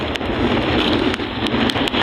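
Strong wind at sea buffets the microphone in a constant roar, with the low hum of a fishing boat engine and brief knocking sounds underneath.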